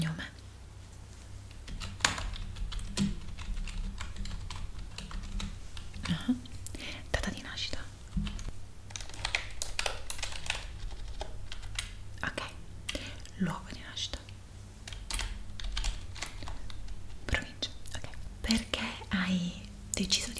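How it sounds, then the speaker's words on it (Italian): Soft, close computer keyboard typing clicks in irregular bursts, accompanied by intimate whispering in Italian throughout an ASMR sleep-clinic roleplay. "Magari ti rilasserà anche il suono della tastiera che userò ora"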